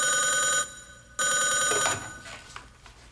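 An old telephone bell rings in two short bursts with a brief pause between them, fairly close and clear, before fading into quiet room sound.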